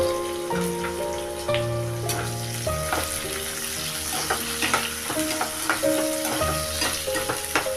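Onion pieces and green chillies fry in a pan for an aloo tomato curry, giving a steady close sizzle with crackling pops and occasional stirring clatter, while sustained music-like tones run underneath.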